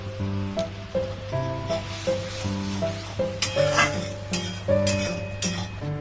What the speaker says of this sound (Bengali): এখন আমরা এটাকে ভালো মতো নেড়ে চেড়ে একটু ভাজা ভাজা করে নেব